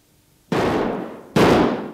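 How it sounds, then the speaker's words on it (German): Two loud gunshots in a courtyard in a dramatic film scene, each a sudden harsh blast that rings on and fades, roughly a second apart. "Sie schießen."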